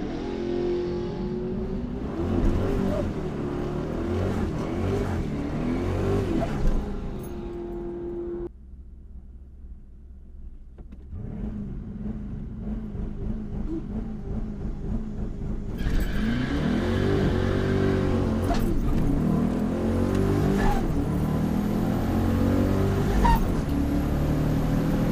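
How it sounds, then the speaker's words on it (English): A turbocharged car on street tires revs hard and loud for a burnout at a track night, the engine dropping briefly mid-run before roaring back with sustained high-rev noise, and no voices. "So I'm gonna try a burnout this time."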